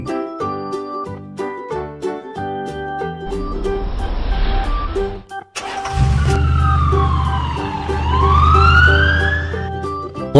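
A cartoon police car siren wails in a children's animated vehicle scene, a loud rising-and-falling tone over an engine rumble that follows a stretch of bright, plinking background music.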